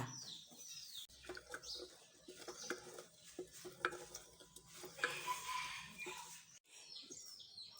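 Sugar is stirred into pickling liquid in a pot to dissolve it, giving soft, faint scraping and swishing over a quiet background.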